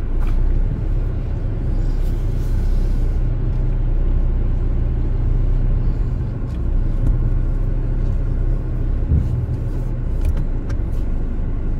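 Cars crawling along a narrow one-way street in the Anafiotika quarter of Athens, with a continuous close engine rumble and low traffic drone, plus a few faint clicks and knocks.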